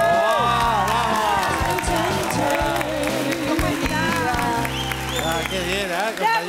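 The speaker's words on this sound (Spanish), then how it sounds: "Démosle un aplauso a la compañera nueva, por favor." A classroom of students claps and cheers loudly for a new classmate, dense excited crowd noise with many overlapping voices shouting throughout.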